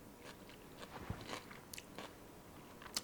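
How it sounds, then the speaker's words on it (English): Quick pickled green beans crunch in a few crisp, faint bites close to the mouth, followed by soft chewing in an otherwise quiet space. "You hear the crunch?"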